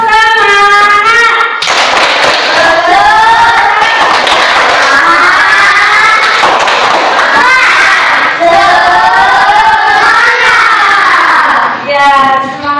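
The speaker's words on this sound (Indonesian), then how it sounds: "Kita tepuk semangat sekali lagi." A room of teacher-training students at IAIN Lhokseumawe performs a loud, rhythmic 'tepuk semangat' routine, many voices chanting in sung patterns with bursts of clapping in between, lasting over twelve seconds.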